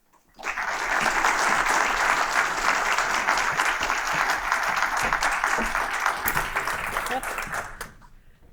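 Loud, steady applause from an audience welcoming speaker Laura Albert McLay at a talk on March Madness math, rising quickly, holding for several seconds, then tapering off.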